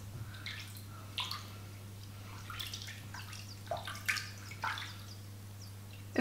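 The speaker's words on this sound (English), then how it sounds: "Let's just give it a rinse." A fossil shell is rinsed under running water, with faint splashes and drips at irregular intervals over a steady low hum, no talking.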